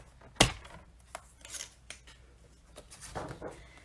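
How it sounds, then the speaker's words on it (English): A paper trimmer slices through cardstock in one sharp, close cut, followed by faint rustling and handling of the paper sheets in a quiet room. "I can cut 3 layers at a time on this trimmer"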